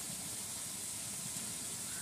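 Chopped onion and garlic sizzle in hot oil in a kadai, a steady soft hiss that holds evenly throughout with no voices.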